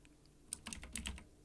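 A brief flurry of keystrokes on a computer keyboard, a handful of quick faint clicks in close succession in a quiet room.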